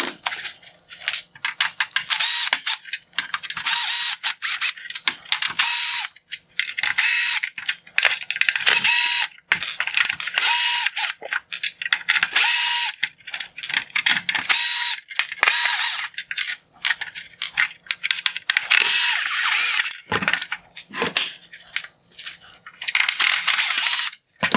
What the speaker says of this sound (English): I'm going to remove the screws and pull the LEDs off of the lens now.